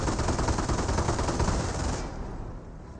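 Suppressing machine gun fire in the strategy game Company of Heroes: a continuous, dense rattle of automatic fire that fades slightly toward the end, with no talking.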